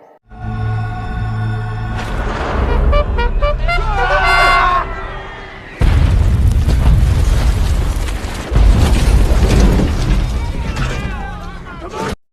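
Repeated bomb explosions hit an Australian and New Zealand base during a Vietnam War battle scene, with loud booming blasts and rumbling bursts that continue almost without pause, mixed with film score and battle din.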